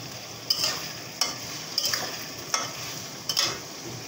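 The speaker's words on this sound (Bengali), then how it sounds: "হলুদ, লবণ পরিমাণ মতো, সুন্দর করে কষিয়ে নেব একটু।" Prawns, onion, garlic and chili sizzle in a hot pan, with a constant frying hiss broken by about five sharp spatula scrapes and stirs. The scrapes come at uneven intervals and sound close.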